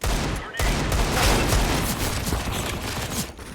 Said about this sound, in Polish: Teraz walnie strzała przez smołonie.